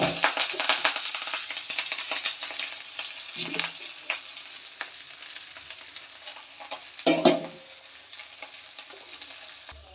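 Vegetables frying in a pan, a steady broadband sizzle with scattered crackles and occasional stirring scrapes, loudest at the start and easing off, with a brief louder clatter near the end.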